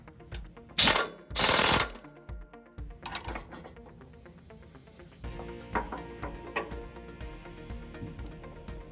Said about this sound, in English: you will then be able just to take your air gun and tighten the bolt head